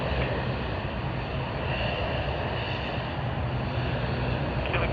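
Aircraft engines rumble steadily at Sydney Airport, a continuous, fairly distant broadband roar that holds evenly for the full five seconds with no voices.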